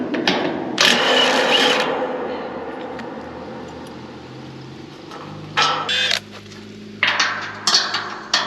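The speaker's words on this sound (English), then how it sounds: "So we're going to do that first with the cordless impact." Cordless impact driver taking bars off farm equipment outdoors, firing in several loud rattling bursts of about a second each, with quieter stretches of mechanical noise between them.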